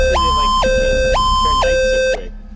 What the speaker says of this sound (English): Who turned the freaking siren on?